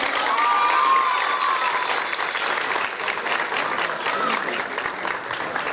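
Audience applause in a hall as a girls' U15 football team, regional champions, and their coaches are invited onto the stage at a women's football team launch event; dense, sustained clapping throughout with crowd noise and a voice over it.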